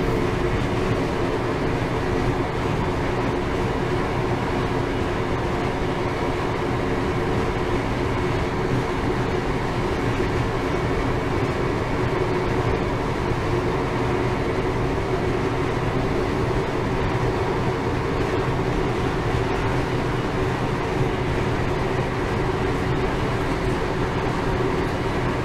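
A train on the Derwent Valley line from Nottingham to Matlock in Train Simulator 2021 hums along with a steady, droning engine and rolling wheel noise, constant and fairly loud throughout with no voices.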